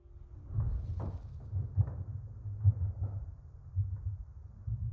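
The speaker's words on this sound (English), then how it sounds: "Footsteps. Slow, deliberate, coming from upstairs." Muffled low thuds repeat at a slow, even pace, like heavy footsteps on a floor overhead, dull and distant.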